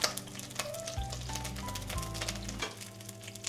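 Food grilling in a hot pan in a holiday chef's kitchen, a steady close sizzle and crackle that runs throughout, with a low hum underneath.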